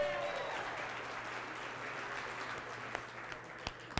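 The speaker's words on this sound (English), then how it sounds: "Then give him a round of applause." Sustained applause from a large keynote audience fills the hall at a steady level, dense and continuous, with a few sharper claps standing out near the end.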